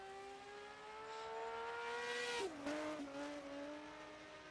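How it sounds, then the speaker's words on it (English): A 1980 Procar race car from a racing game mod drives through the Monaco tunnel, its engine a sustained high-pitched whine that shifts pitch sharply midway through a gear change, with echoing, tunnel-like resonance and no talking. "let's have a listen to the car in the tunnel"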